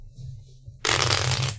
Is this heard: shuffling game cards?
yes